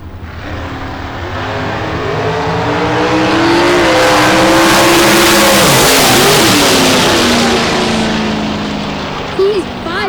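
A nitro-fuelled Parker American Dragster at the US131 Northern Nationals drag strip roars in a loud, sustained engine blast that swells to a peak mid-run and fades slightly toward the end, heard close and dominating.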